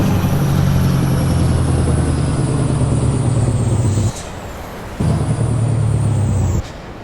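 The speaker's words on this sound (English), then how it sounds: "it's that engine brake" Engine brake on a Mack Ultraliner truck in a driving simulator, a loud steady low rumble that holds for about four seconds, cuts off, then returns for another stretch before stopping again, with the engine idling quietly between.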